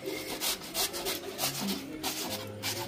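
A cucumber rubbed by hand on a kitchen grater, steady rhythmic rasping strokes repeating close by and fairly quiet, with no one speaking.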